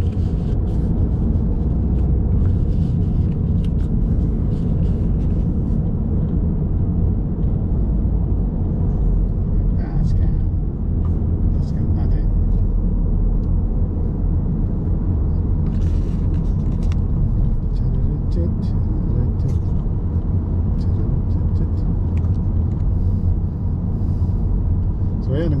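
Highway traffic rumbles past a 2017 VW Passat, a steady, loud roar of road noise that holds for the whole stretch with no breaks.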